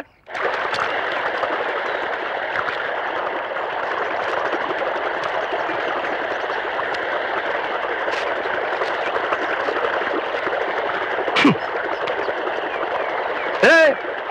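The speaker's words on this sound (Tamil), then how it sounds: "வாய்க்கால எவ்வளவு தண்ணி போகுது?" Water from a farm pump set gushes through an irrigation channel, a loud, steady rushing that runs unbroken from just after the start to the end, with a brief voice breaking in near the close.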